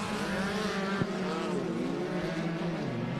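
An off-road short course race truck roars past at a dirt track, its engine note climbing and then falling as it goes by, loud and close, with continuous engine drone.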